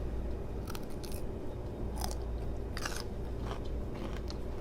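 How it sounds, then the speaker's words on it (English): Raw celery with creamy avocado dip is bitten and chewed up close, giving several crisp crunches over a steady background hum. "We have some vegetables here that I cut up. Have some celery. Let's try it."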